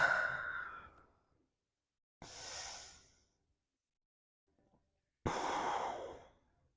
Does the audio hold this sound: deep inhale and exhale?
yes